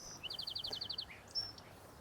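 Wild summer birds calling outdoors, a quick rapid series of bright chirped notes followed by a thin whistled call, faint and fairly distant over quiet natural background.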